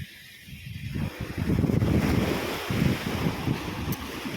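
Ocean waves at Jumeirah Beach in Dubai wash in steadily after a quiet first second, a broad close surf rush mixed with wind, with no talking.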